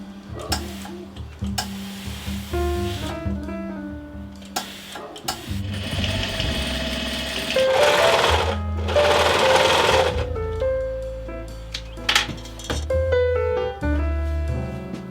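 A sewing machine stitches a dress, running in bursts of rapid mechanical whirring and ticking with brief pauses between runs, loud and close, with a faint melody playing underneath.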